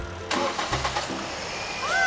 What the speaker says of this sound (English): Crank up the car with the dead battery.